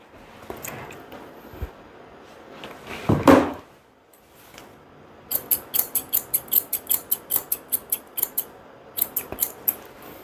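Round grooming scissors trimming a goldendoodle's fur, a close series of rapid crisp snips in a steady rhythm that pauses briefly and resumes, after some rustling and handling noise at the start.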